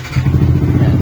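A Yamaha R15M motorcycle engine idles steadily close by, a low continuous rumble with a slight uneven throb across the whole short stretch.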